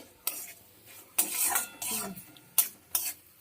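A spoon scrapes and stirs spice masala with pointed gourd seeds in a pan over a medium flame, several distinct scraping strokes with brief metallic clinks and a light sizzle between them, close up.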